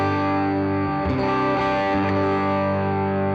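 Electric guitar miked with a Royer 122 ribbon microphone, a loud overdriven chord sustained throughout with a few picked accents in the middle, no voices.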